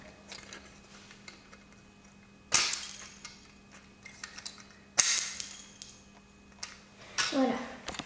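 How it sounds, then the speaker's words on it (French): Missiles fired from a Star Wars Republic Striker toy: three sharp plastic snaps or pops spaced a few seconds apart, close and loud over a quiet room. "Alors là, il y a des missiles. On les tire comme ça."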